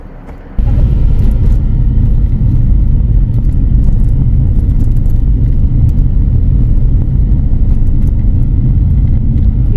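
A car's engine rumbles loud and steady from inside the cabin as it drives a mountain road between Fethiye and Kaş in Turkey, kicking in abruptly after a quiet first moment and holding an even drone throughout.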